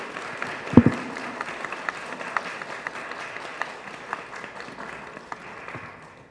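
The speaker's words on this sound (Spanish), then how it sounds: "A quien todos aplaudimos siempre" Audience applause at a book presentation at the FIL Minería book fair, a steady wash of clapping from a seated crowd with one sharp close clap near the start.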